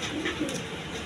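A pair of high-flying giribaz pigeons coo in soft, throaty murmurs close by, a short low burble over faint room noise.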